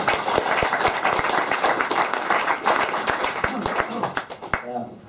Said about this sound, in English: You can clap if you want, if you like this.